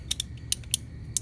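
A ratchet tightens a bolt on a Honda CB300R motorcycle during an oil change, giving a few sharp, separate clicks spaced irregularly over a low background hum.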